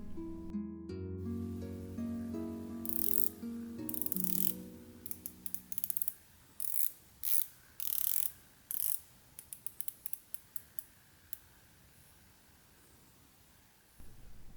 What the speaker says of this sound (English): The bezel moves smoothly but retains a feeling of sturdiness